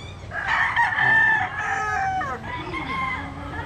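Stag roosters crow nearby, several drawn-out calls overlapping, with softer clucking from other fowl underneath.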